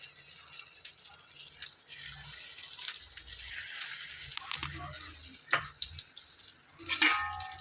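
Sorghum paniyaram batter sizzles in sesame oil on a hot paniyaram pan, a steady close frying hiss with a few louder crackles and spatters near the end, no talk.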